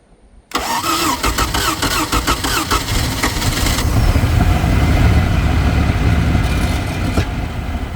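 The engine of a 1980s Bronco boat catches after a brief starter crank and settles into a loud, steady, rumbling idle close by, with no talk over it.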